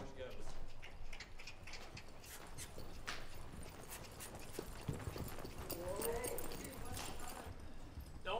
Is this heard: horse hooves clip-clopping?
yes